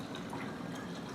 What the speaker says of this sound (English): Using my funnel, I'm going to pour in.